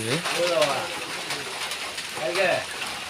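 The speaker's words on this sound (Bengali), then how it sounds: "বৃষ্টির মধ্যে" Steady hiss of rain across the whole stretch at an earth-digging work site, with someone talking over it.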